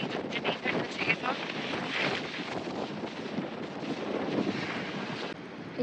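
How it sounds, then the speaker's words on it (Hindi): Strong storm wind buffets the microphone outdoors, a loud continuous roaring rumble with gusty surges, while someone talks underneath it. "इतनी ज़्यादा विंड है कि मेरी साइकिल गिर गई है।"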